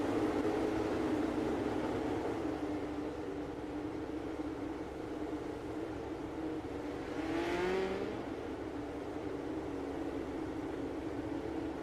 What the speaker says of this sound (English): Got some great green flag racing here.